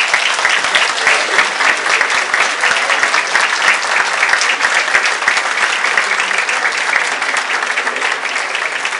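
A crowd at an anniversary gathering applauds elected officials and candidates, loud sustained clapping that continues evenly from start to finish with no pause.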